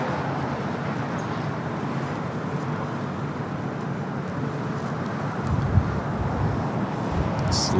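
Southwest airliner at LAX beginning its takeoff roll on runway 24 left, a steady broadband jet roar from a distance that swells slightly toward the end, with no voices.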